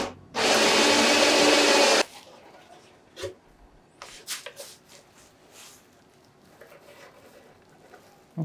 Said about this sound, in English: I drilled through the hole and the brace is still intact